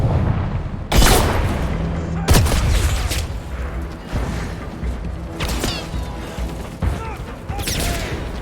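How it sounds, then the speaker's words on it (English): A frag grenade goes off in the shooter game 007 First Light: a loud near blast near the one-second mark, then further heavy booms and gunfire bursts through the rest, with voices in the mix. "Throwing frag grenade!"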